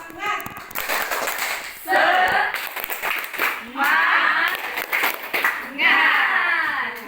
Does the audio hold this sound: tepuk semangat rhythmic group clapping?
yes